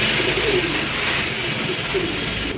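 Pigeons cooing softly in low, repeated murmurs over a steady background hiss, with no voices.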